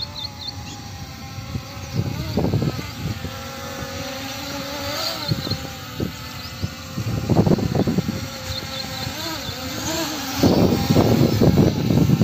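M3 Max camera drone flying in strong wind, a steady buzzing whine with motor pitch swells, blown wind bursts rumbling through at intervals.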